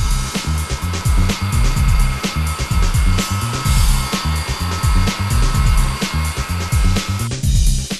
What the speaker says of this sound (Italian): In questa fase può essere utile riscaldare la copertina con un phon per rimuovere le eventuali pieghe.